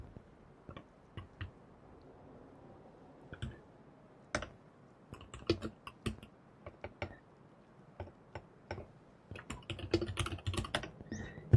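Computer keyboard keys clicking in irregular close-up bursts, scattered taps with pauses, then a faster flurry of typing near the end, quiet and intimate in an ASMR setting with no voices.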